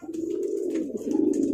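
A pigeon coos steadily and close by after being given medicine and released, a low continuous throaty burble with no voices over it.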